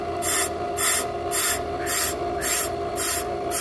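A brake lathe bit scrapes a brake drum in a steady series of about seven rhythmic rasping sweeps. They ride over a constant mechanical hum from the turning lathe.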